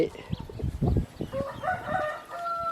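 A rooster crows at a chicken pen, a drawn-out crow with clear harmonics rising through the second half, close and fairly loud, after a stretch of low thumps, rustling and clucking.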